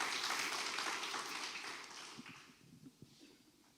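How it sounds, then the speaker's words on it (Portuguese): A church congregation applauds a visiting pastor during an evening service, a broad wash of clapping that starts full and gradually thins out, leaving a few scattered claps near the end. "Pastor Israel, uma salva de palmas, recebendo nele nesta noite"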